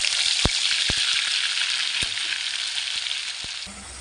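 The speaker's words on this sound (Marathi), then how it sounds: "जोपर्यंत तेल सुटत नाही तोपर्यंत आपण इथे हा मसाला छान परतून घेणार आहोत" Ground masala paste sizzles in hot oil in a kadhai on a gas stove, a steady bright frying hiss with occasional sharp stirring clicks from a spoon, close and continuous with no talking.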